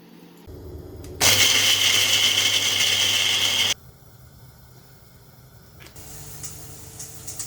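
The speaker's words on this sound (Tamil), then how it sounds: "இனி எல்லாத்தையும் போட்டு நல்லா கிரைண்ட் பண்ணிக்க வேண்டியதுதான்" Mixer grinder blending soaked ginger and spices into a paste for Kerala inji theeyal, a loud steady whirring grind lasting a few seconds before cutting off abruptly, leaving quiet kitchen room tone.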